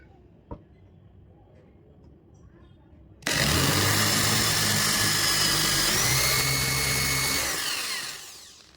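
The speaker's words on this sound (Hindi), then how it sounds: "तो मैं चारों में होल कर लूँगा" An electric drill bores holes into wooden blocks, starting abruptly with a loud, steady whine that runs unbroken for about five seconds before tapering off; a faint knock comes just before it starts.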